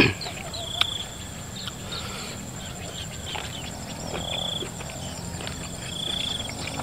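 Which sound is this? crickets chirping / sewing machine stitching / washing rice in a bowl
crickets chirping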